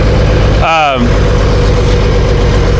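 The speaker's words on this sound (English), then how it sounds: "So it is a gas tractor, which you guys can hear. It runs really good." A gas tractor engine idles steadily, loudly and close throughout, with a brief voice-like sweep near the start over the constant mechanical drone.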